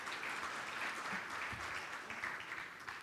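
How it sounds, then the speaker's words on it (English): Conference audience at a digital payment event claps for the moderator, a brief, even round of applause heard faintly and at a distance. "please one round of applause for our moderator"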